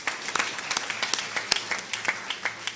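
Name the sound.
audience applause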